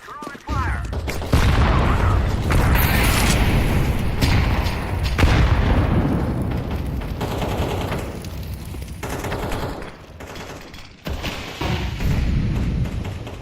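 Grenades going off in a Counter-Strike 2 match, a flashbang and an incendiary, with heavy booming bursts and crackling fire over gunfire, loud and sustained across the round as a player calls out in the background.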